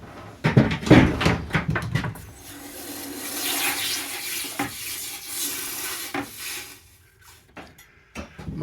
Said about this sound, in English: We're just going to quench them in water real quick.